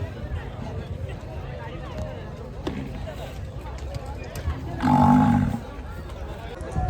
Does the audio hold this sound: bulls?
yes